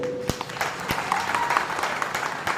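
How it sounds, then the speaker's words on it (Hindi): A crowd at the inauguration of a Mohalla clinic in Jakhira claps loudly, a steady patter of applause with a few sharp individual claps standing out and voices faintly mixed in. "जोरदार तालियां आपको उन दोनों के लिए बनानी है"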